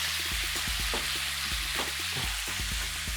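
Shrimp lightly seasoned with seasoned salt sauté in a pan, hissing in a dense, constant sizzle with regular stirring scrapes and no talk.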